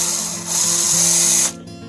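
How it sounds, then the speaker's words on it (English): A power drill bores into a wooden snowman, a loud steady whine that swells midway, holds for about a second and then cuts off abruptly, heard close up with no talking. "I will drill a hole in here."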